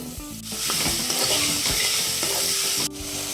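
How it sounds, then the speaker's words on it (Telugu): Ridge gourd pieces drop into hot oil already frying with curry leaves, turmeric and ginger paste, giving a steady, loud close sizzle with scraping stir strokes throughout, and no voices. "ఫ్రై అయిపోయింది ఇప్పుడు బీరకాయ ముక్కలు వేస్తున్నాను"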